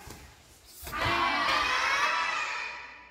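A group of trainees shouts together in one long, loud sustained cry during a morning training exercise, rising sharply after a counted cue and holding for about two seconds.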